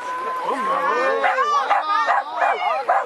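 A dog at a jumping agility training session yips, whines and barks excitedly in quick pitched bursts, close and loud, with voices mixed in.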